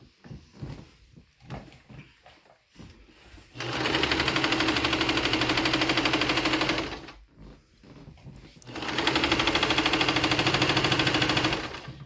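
A home sewing machine stitches fabric in two long, steady runs of a few seconds each, loud and close, with a short pause and light handling noises between them.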